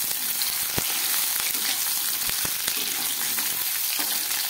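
Potato and brinjal pieces frying in a pan, a loud, constant close sizzle with occasional clinks of the spatula and no speech.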